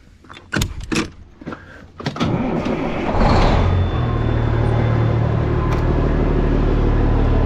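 A truck engine cranks and fires up after a few clicks and thumps, then settles into a loud, steady diesel idle close by, with a trailer attached.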